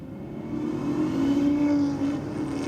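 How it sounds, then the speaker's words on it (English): A Ram TRX pickup's V8 roars at the start of a roll race, a loud, sustained engine drone that swells and holds steady through the short stretch. "Listen to the roar of that V8 coming from the truck"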